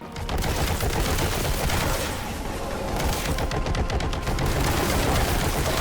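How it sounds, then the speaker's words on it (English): Heavy bolter firing in the video game Warhammer 40,000: Boltgun, a loud, unbroken stream of rapid heavy shots and explosive impacts that runs close and continuous with no talk over it. "Then there's the heavy bolter, and man, this thing, whew, probably my favourite weapon in the game"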